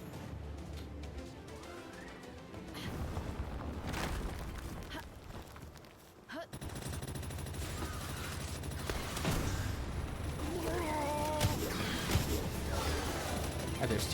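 Enemies in Palworld shoot guns in repeated bursts of gunfire mixed with booms, running on for many seconds, with people talking over the shooting.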